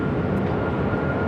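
An American Airlines jet roars steadily at Phoenix airport, a broad continuous engine rumble with no breaks, loud and close, without any voices.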